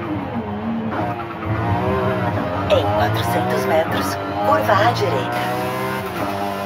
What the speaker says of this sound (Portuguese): O som do carro tá bem bacana